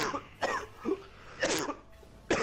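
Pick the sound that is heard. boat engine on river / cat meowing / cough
cough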